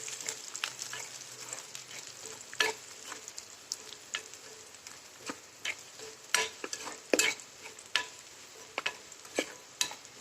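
Green chilies and curry leaves crackle in hot oil with garlic for a chana dal curry, a steady sizzle broken by sharp irregular pops and spatters close by, with no talk.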